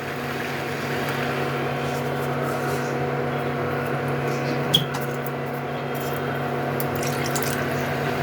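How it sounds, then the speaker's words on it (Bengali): Water pours steadily into a cooking pot for muri ghonto, a continuous close rush with a faint hum underneath and one brief clink partway through. "জলটা সব দিয়ে দিলাম, 1 কেজি জল একদম দিয়ে"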